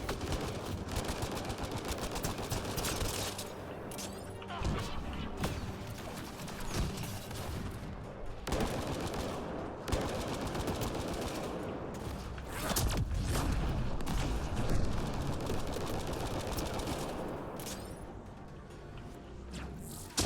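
Sustained, dense gunfire and explosive bursts from combat in the science-fiction shooter Mass Effect: Andromeda, a continuous loud barrage with rapid shots and booms throughout, no speech.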